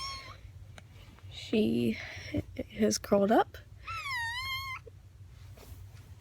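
A pet cat gives a long, wavering meow in a home on a rainy day, close by and clear, preceded by a couple of shorter mews, with someone talking softly around it.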